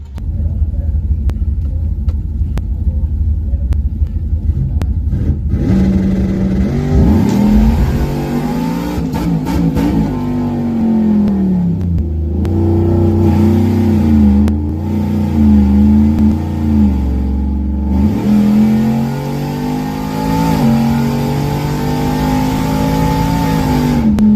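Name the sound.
supercharged 392 Whipple Ram truck accelerating on a drag pass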